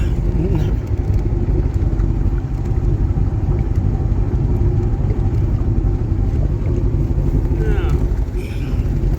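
A 1974 Lund jet boat's engine pulling forward under throttle, a loud, steady low rumble with water wash, close to the listener throughout.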